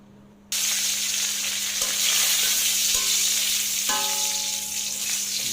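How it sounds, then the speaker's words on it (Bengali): Dried red chillies frying in a pan: a steady, close hiss and crackle that begins abruptly after a brief quiet moment and then holds loud and even, with faint clinks and tones in the background. "মরিচগুলো ভেজে নেব এখন"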